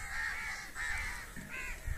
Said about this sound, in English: These crows are very angry on me.